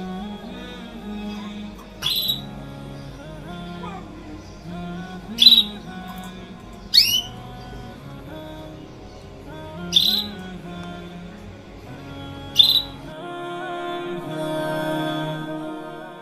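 A caged bird gives several short, sharp chirps spaced a few seconds apart, close by, over a quiet background hum.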